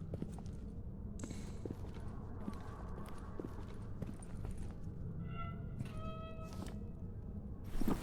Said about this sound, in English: I keep hearing footsteps.